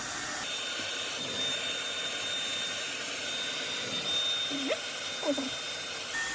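A hair dryer blows with a steady high-pitched whirring hiss, close and constant, while a voice briefly murmurs underneath near the end.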